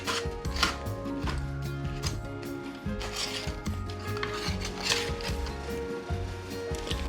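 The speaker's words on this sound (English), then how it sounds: "So now I'm gonna remove all the veggies from the pan" Roasted vegetables are scraped and lifted out of a roasting pan with a utensil, leaving turkey drippings behind, making a close, busy string of scraping, tapping and clacking strokes with no one talking.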